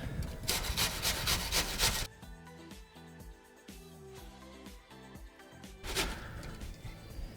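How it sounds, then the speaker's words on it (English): An onion rubbed back and forth across the largest holes of a box grater gives rhythmic rasping strokes, close and fairly loud, with a quieter stretch of faint scraping in the middle and no talking. "if you got a grater, you actually want to use the largest holes. Then you take the onion"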